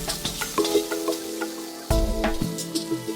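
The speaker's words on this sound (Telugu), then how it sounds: "చూసారా కరివేపాకు వేయగానే ఎలా చిట్ చిట్ చిట్ చిట్ అంటున్నాయో" Curry leaves and onions hit hot oil with fried green chillies for a chicken curry, giving sharp crackling pops and a busy sizzle, with intermittent clatter from stirring.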